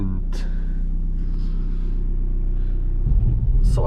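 An old diesel BMW rolls along a gravel road, a low steady rumble with tyre crunch throughout, louder toward the end, and a voice speaks over it.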